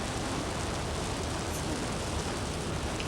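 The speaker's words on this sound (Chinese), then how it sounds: "目一个日出落大雨啦" Steady, dense hiss of heavy rain pouring down without a break, evenly loud throughout, with no voices.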